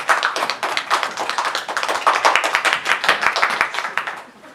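Audience clapping at a student club geography presentation, a loud burst of many hands that thins out and fades near the end.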